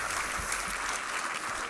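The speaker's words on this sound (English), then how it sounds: "Can we give all of our award winners another round of applause?" An audience at a student achievement awards ceremony claps for the award winners, a steady dense wash of applause filling the short stretch without a break.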